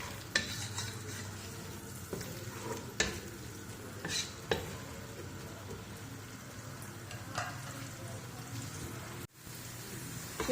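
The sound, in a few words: onions frying until brown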